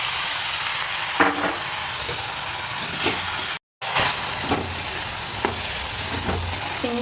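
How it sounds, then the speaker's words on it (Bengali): Shrimp frying in hot oil in a karahi with turmeric and salt: a steady, dense sizzle and hiss close up, with occasional spatula scrapes and stirs punctuating it, briefly cut by a short gap. "এরপরে দিয়ে দেবো যে চিংড়িটা রাখা আছে সেই চিংড়িটা।"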